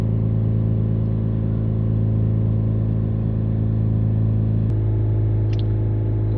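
A Ford Focus ST diesel engine holds steady raised revs in a constant, loud tonal drone with a slight shift in tone partway through, close-up and without speech.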